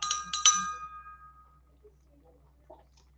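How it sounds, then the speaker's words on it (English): Martini in a glass being stirred, with a few bright clinks and rings of the spoon against the glass in the first second, then fading to near silence with a faint tap later. "but I'll just stir it a little bit"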